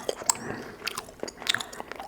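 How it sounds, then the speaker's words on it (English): Gum chewing close to the microphone during a soft-spoken ASMR session: a steady run of small wet smacks and crunchy clicks, quiet and intimate, with no talking. "Just doing some ASMR and gum chewing"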